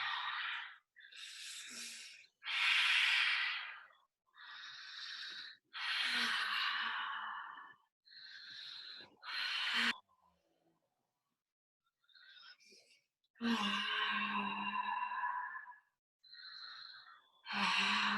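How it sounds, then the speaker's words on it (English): Slow, deep breaths drawn in and let out as part of a guided relaxation exercise, each long airy inhale and exhale separated by short pauses, close and fairly loud, with a near-silent stretch midway. "So just take some deep breaths."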